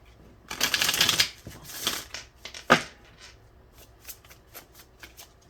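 A deck of tarot cards shuffled by hand: two loud riffling bursts of flicking card edges, then a sharp slap and a few lighter taps and flutters as the deck settles, close and clear with no talking.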